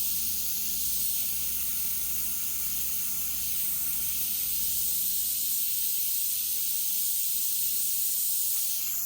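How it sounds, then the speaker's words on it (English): A fine mist of paint sprays from an airbrush or can over a painted Mustang hood, a continuous soft hiss that holds steady at a low, even level without pause. "now I'm just going to spray a little bit of mist over that"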